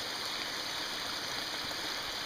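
Spring water flows from its source in a constant, close rushing wash, an even hiss of water with no breaks and no talk.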